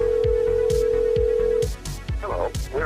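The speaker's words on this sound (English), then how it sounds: "the phone didn't even ring twice before his voicemail picked up" A phone call's ringing tone holds steady for over a second and a half, then cuts off as voicemail answers, with dull low thumps repeating underneath throughout.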